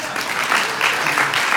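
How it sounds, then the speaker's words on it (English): A rehearsal-dinner audience breaks into steady applause, a dense, continuous patter of many hands clapping close by that holds at an even level throughout. "You can clap."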